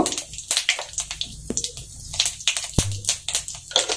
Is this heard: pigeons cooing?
no